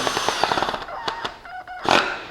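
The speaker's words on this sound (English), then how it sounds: "there's the drill, and I'm just going to do a really quick demonstration." A power drill drives a screw into a wooden bonsai bench, its motor buzzing in a fast chattering burst that slows, stops, then gives a short final whirr, close and loud with no voices.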